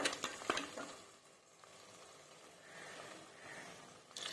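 Korramenu fish curry with green chillies is stirred in a clay pot, with a few soft scraping clatters at the start and then a faint, steady simmering sizzle, close and quiet with no talk.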